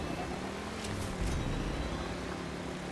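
A motorcycle ridden in a survival MMO video game: a steady, low engine drone with a brief swell partway through, heard alone without talk.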